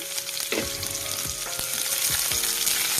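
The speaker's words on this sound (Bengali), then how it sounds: "এটার পর আমি একটুখানি স্লাইস করা পেঁয়াজ, একটা বড় পেঁয়াজকে আমি স্লাইস করে নিয়েছিলাম, সেটা আমি দিচ্ছি।" Sliced onion frying in hot oil with whole garam masala, giving a steady close sizzle broken by a few soft stirring scrapes.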